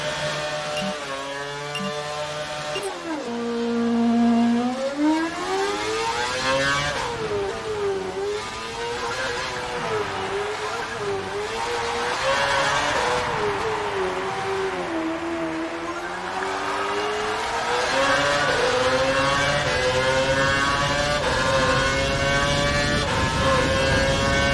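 An F1 car engine in the racing game F1 2012 screams steadily through rising and falling gear revs, loud and continuous, accelerating and easing as it takes corners, with no voices.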